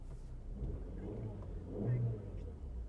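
A Skoda Octavia with 161,000 km idles at steady revs, a low continuous engine rumble with no surges, fairly close and moderately loud.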